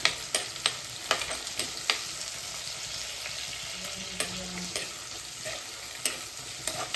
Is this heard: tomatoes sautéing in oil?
yes